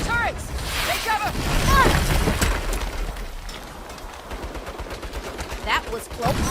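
Automated turret gunfire in the Saints Row reboot video game: rapid bursts of shots and impacts, fairly loud and continuous, with voices shouting over the shooting.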